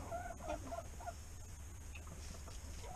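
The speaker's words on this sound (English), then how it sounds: "Chickens are cleaning the dirty chicken off. They're pecking the mud off of her." Hens cluck and murmur softly at close range, with a few short calls and light scratchy movement beneath, as the flock pecks mud off a dirty hen.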